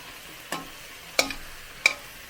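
Potatoes get stirred into a pot of hamburger soup, three short separate scrapes of a spoon against the pot over a faint background, with no talk.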